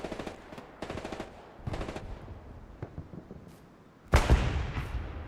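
Machine gun fire in Hell Let Loose, a World War II shooter set in the Hurtgen Forest, comes as several short rattling bursts followed by a heavier, louder burst near the end, with no talking.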